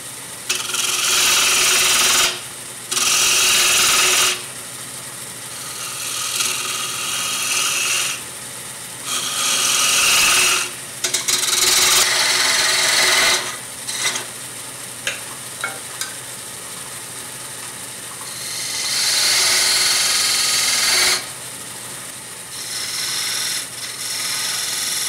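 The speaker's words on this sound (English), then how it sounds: "I'm just taking a beading and parting tool and cleaning this up." A beading and parting tool cuts a wooden goblet spinning on a lathe, giving loud, close, raspy scraping bursts that start and stop repeatedly, with short quiet gaps between cuts over a low motor hum.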